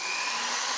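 A power drill bores into a wall for a brief, steady high whine at moderate level, heard alone.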